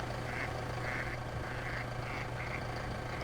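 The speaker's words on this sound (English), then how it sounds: "We actually have animated ducks here." Animated ducks in Farming Simulator 17 quack repeatedly in short bursts, about six calls spaced roughly half a second apart, over a steady low hum of engine or ambient background.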